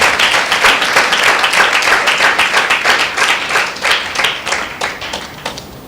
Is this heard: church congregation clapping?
yes